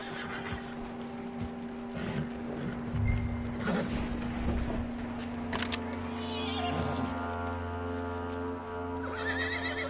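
A horse whinnies loudly near the middle, with snorts and shifting hooves over a steady musical drone and ambient hum.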